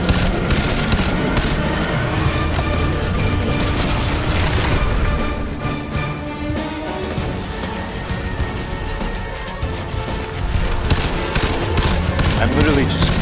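Dense, continuous video-game gunfire fills the scene, sustained rapid bursts with booming hits running throughout, loud and near, with a voice talking over parts of it.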